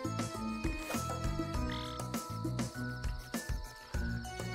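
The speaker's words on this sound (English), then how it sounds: "The frog jumping into the water background, I thought was one of my worms sliding off into the water." A cartoon frog croaking in the Worms: Revolution video game, with repeated rhythmic croaks woven into a dense bed of layered game ambience and music.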